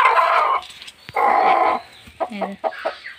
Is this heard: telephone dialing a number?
no